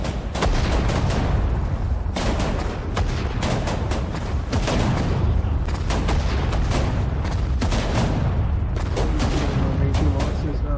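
Heavy artillery from big guns in the WWII strategy game Sudden Strike 4 during the Battle of Salla, firing in loud, rapid booms with sharp gunshot cracks layered over a dense, continuous battle din.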